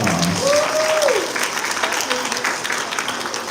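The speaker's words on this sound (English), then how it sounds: "Let's give our Lord and Savior God a round of applause," A congregation at a Garifuna Settlement Day Mass in Los Angeles bursts into sustained applause, loud and dense throughout, with a brief sung or called-out voice rising over the clapping near the start.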